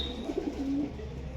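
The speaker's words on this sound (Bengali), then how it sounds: "এই যে ফার্মে দেখেন কত কৈতর" Pigeons coo softly at a pigeon farm, a few short low calls followed by one longer drawn-out coo, set against a steady low background hum.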